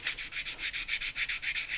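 Rapid rhythmic rubbing strokes on a guitar neck and body, sanded with a small rubber eraser as a block, about six per second, a steady scratchy back-and-forth close to the listener.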